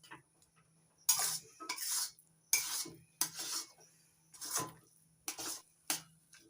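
A utensil scrapes and stirs a raw mango masala mixture in a pan over low to medium flame, coming in repeated close, clattering strokes separated by short quiet pauses.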